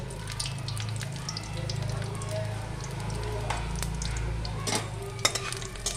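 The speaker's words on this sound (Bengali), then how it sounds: "উপরে আমি এবার দুটো শুকনো লঙ্কা দুটো তেজপাতা দিয়ে দিলাম অল্প একটু সাদা জিরে" Two dried red chillies, two bay leaves and a little cumin fry in hot oil, giving a continuous low sizzle with occasional sharp crackles and stirring clinks, moderately loud and with no talk.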